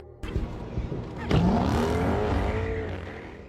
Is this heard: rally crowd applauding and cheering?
no